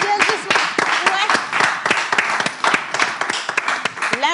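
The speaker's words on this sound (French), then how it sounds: "Applaudissez pour ce qui vient." An audience applauds in a steady, dense patter of many hands clapping, continuous and fairly close, with voices mixed in beneath the clapping throughout.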